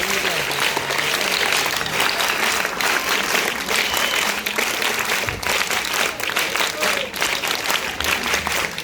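An audience at an award ceremony applauds in a dense, continuous wash of clapping, steady and fairly loud throughout, with some voices mixed in.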